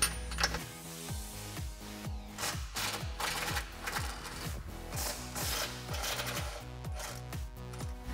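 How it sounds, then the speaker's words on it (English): A hand ratchet with an 18 mm socket removing bumper nuts on a Jeep Wrangler JK, giving a steady, close run of rapid ratcheting clicks in repeated strokes throughout. "the inside you're gonna have to use a traditional hand ratchet."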